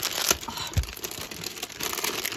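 A plastic wrapper packet from a Marvel sweet box is crinkled and torn open in a few quick, close crackling bursts, with a sharper rip near the start and softer rustling after.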